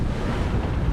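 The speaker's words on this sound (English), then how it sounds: "bit squally here and there, so the wind picks up a bit" Strong wind and rushing waves surround a sailing boat on an Atlantic crossing in squally weather, a loud, continuous roar with buffeting wind noise on the microphone.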